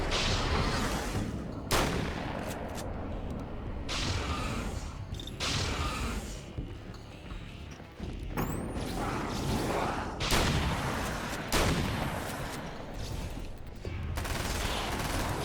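Grenade blasts and bursts of gunfire from the video game Alan Wake's American Nightmare, loud repeated booms and crackling shots following one another across the whole stretch with no pauses.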